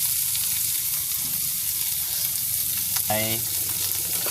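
Small dried fish frying in hot oil in a pan: a continuous loud sizzle with crackling throughout, a brief voiced exclamation partway through.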